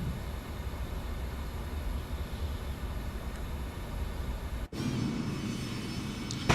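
An airliner engine hums steadily in Microsoft Flight Simulator 2024 with a constant broadband whoosh, briefly cut off before it resumes slightly brighter, and no talk.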